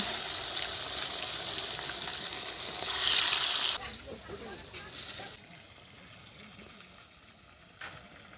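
Pangas fish tail, coated in oil, frying in a pan in village-style home cooking, gives a loud, dense sizzle for several seconds that drops sharply and then fades to a faint hiss.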